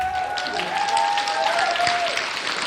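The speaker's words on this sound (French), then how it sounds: "on pourrait faire un tonnerre d'applaudissements pour notre technicien" An audience applauds for their technician, a continuous patter of clapping joined by a sustained whistle-like tone and a light wash of crowd noise, loud and steady from start to finish.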